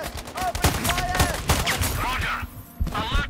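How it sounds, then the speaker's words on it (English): Gunfire in the shooter game Sniper Ghost Warrior Contracts 2: a rapid string of loud, close shots in bursts, with brief shouted voices over them. "Charlie One, I hear shots nearby"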